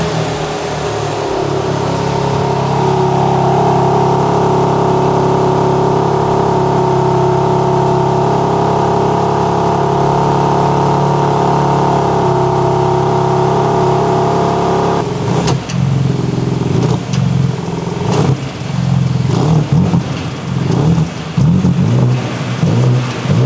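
BMW M4 CSL engine with titanium exhaust running nearby, a loud steady droning idle that shifts about two-thirds through into rougher, blipping revs and more uneven exhaust pulses.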